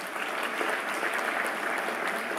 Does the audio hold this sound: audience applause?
yes